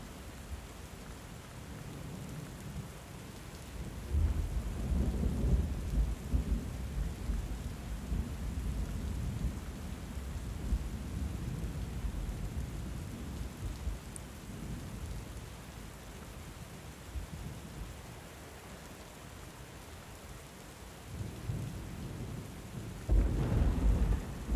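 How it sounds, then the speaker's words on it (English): A storm in the game Book of Hours: steady rain hisses under deep, rolling thunder that swells loudly, fades back to a rumble, and breaks out again near the end, with no voices. "The storm wind plucks at you both."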